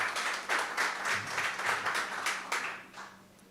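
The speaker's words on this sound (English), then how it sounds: "So I would like us to give MTN a round of applause" Moderate applause from a crowd at a cycling road race launch event, a run of fairly distinct hand claps that swell and fade in waves before tapering off toward the end.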